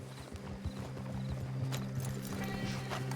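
Horses' hooves clip-clop on the ground in Red Dead Redemption 2, quiet and uneven, several horses stepping together, with a faint whinny.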